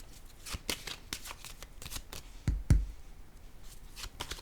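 Tarot cards are shuffled and riffled in a steady run of soft, crisp flicks, ending with a couple of louder taps close to the microphone.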